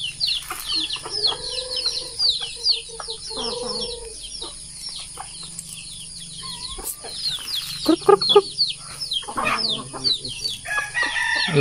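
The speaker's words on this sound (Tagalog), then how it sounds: "itong mga manok na to" A flock of chickens clucks and chatters continuously nearby, with scattered squawks and a rooster-like call rising above the steady background hum.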